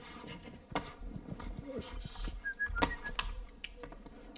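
A short whistle calls a horse in the Kingdom Come: Deliverance video game, followed by the clip-clop of hooves approaching under a low ambient bed.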